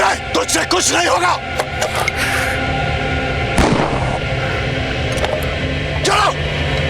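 Several sharp gunshots crack out amid a chaotic, noisy scene, with shouting voices mixed in and a sustained roar of background activity.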